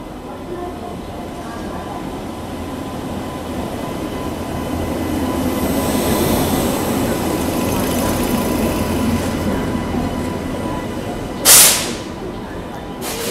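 Steady rumble of the Tulsi Express train with LHB coaches, heard from inside a sleeper coach, swelling midway with one brief sharp squeal near the end.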